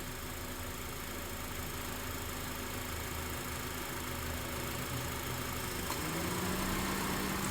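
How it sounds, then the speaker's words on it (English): A car engine idles with a steady, droning hum and faint vibration while the AC compressor strains to compress refrigerant through a plugged condenser. The sound is moderately quiet and continuous, and a rising tone enters near the end. "You can hear the engine struggling."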